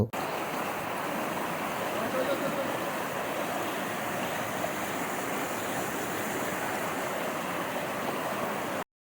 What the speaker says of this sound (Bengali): তোমাদেরকে একটা ক্লিয়ার জলের সাউন্ড শোনাবো, দেখো